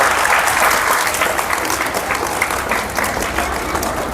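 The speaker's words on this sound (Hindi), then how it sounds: "वेरी गुड, ताली बजा दो सब।" Applause from an audience at a school Independence Day celebration, a dense, steady clatter of many hands clapping throughout, loud and close with no talk over it.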